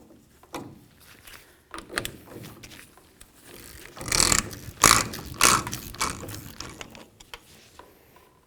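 A four-prong tool works the nut off a rear parking brake on a 1999-2007 Ford Super Duty F-250, with metallic ratcheting clicks and scrapes coming up close, louder in the middle.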